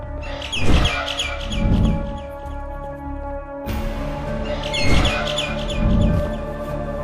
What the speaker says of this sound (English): Bird up.